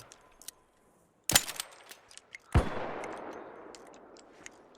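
Gunfire in the video game ARC Raiders: two sharp, fairly loud shots about a second apart, the second trailing off in a long echoing decay, with faint clicks around them.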